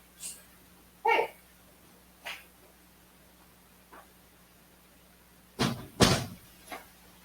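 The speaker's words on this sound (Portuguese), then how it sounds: "Eu vou fechar a janela." A window is shut indoors: a few faint knocks early on, then a louder pair of bumps and a brief slide close together near the end, with quiet room noise around them.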